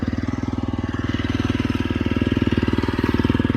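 A motorcycle engine idles close by with a fast, even putter of regular pulses, steady and fairly loud throughout and with no talking.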